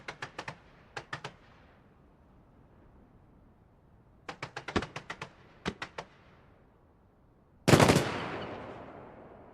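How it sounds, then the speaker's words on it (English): Titanium shots fired from a fireworks wheel at a New Year display in London, heard as quick crackling bursts of sharp reports in several clusters, followed by one loud heavy blast that decays slowly. "These bits using titanium, which is a very old-fashioned, very traditional form of fireworks."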